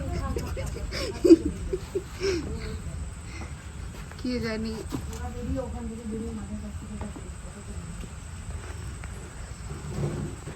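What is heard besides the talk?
crickets chirping on a rainy evening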